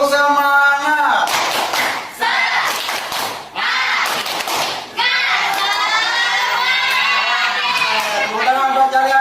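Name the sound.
class doing the 'tepuk semangat' rhythmic clapping chant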